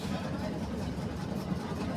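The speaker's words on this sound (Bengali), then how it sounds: "মানে আমাদের ট্রলার কোনের বাড়ির সামনে চলে আসছে।" A trawler boat engine in Barishal drones in a low, steady rumble that holds constant throughout, with muffled voices faintly in the background.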